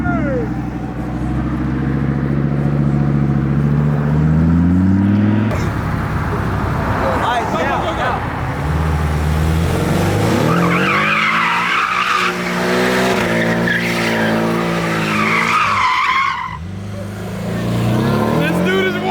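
A Porsche doing donuts in an intersection after leaving a car show, with loud, sustained tire squeal and skidding rising and falling as the engine revs. Onlookers shout and talk excitedly throughout.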